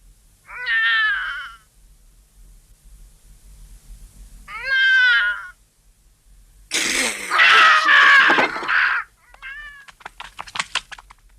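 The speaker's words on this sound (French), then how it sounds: "Ah, c'est rien, t'inquiète pas, c'était le chat." A cat meowing in a French-dubbed Tom Sawyer cartoon episode, two clear separate meows spaced apart, then a louder drawn-out yowling cry and a brief scratchy trailing sound, close and loud with quiet in between.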